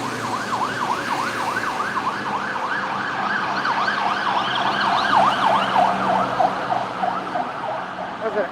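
A wailing emergency vehicle siren sweeps up and down repeatedly on a Bangkok street at night, rising in loudness as it nears, over steady traffic noise.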